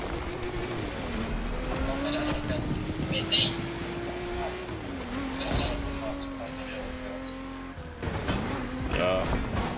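A Lamborghini race car in The Crew Motorfest drones steadily at high revs with shifting pitch and occasional tire noise, while people talk throughout.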